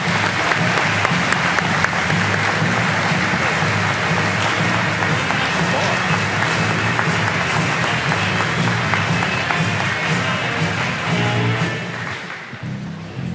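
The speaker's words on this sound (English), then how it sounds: "give him a good round of applause" A college convocation audience gives a loud, sustained round of applause, dense rapid clapping filling the hall before fading off toward the end.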